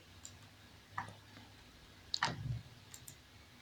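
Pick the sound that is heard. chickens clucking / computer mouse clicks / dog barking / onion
computer mouse clicks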